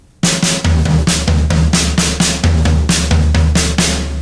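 Drums played at a slow, steady pace, with evenly spaced hits moving around the kit, each stroke sharp and close.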